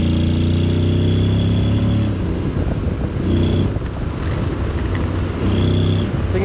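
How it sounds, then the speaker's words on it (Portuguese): Honda X-ADV 750 motorcycle running at low speed under load, its exhaust a steady low rumble with harmonic drone that swells and eases in a few throttle surges, accompanied by wind buffeting across the microphone. "mas este barulho do escape é fixe."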